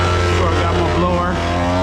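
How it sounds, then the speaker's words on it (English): A leaf blower runs steadily up on a roof, clearing debris with a loud, sustained engine whine and rushing air that stays constant throughout the short stretch. "So I got my blower."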